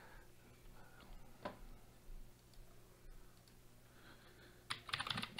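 Soft, quiet clicking of typing on a computer keyboard, with scattered keystrokes and a brief quicker burst near the end, set against low background hum.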